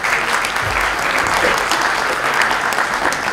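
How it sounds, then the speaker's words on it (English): Steady applause from an audience at a political event, a dense even wash of clapping holding at full strength for a few seconds with no talk over it. "give him a round of applause even if he's not in the room"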